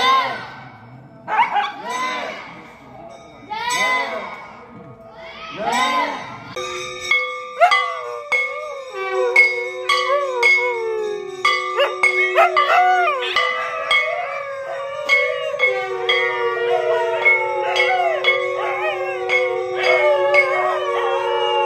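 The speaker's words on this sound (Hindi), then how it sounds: "आसपास के जो भी कुत्ते हैं 4-5 कुत्ते, तो ये भी मतलब उनके साथ ही पूजा में लग जाते हैं।" Four or five dogs howl together during an evening temple puja, long wavering overlapping howls that persist throughout, with ringing bells and faint voices of worshippers underneath.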